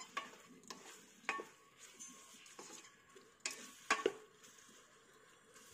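Pulao with salt and tomato gets mixed in an electric rice cooker, heard as faint, intermittent scraping and clinking of a spoon against the pot, with soft sizzling in the background.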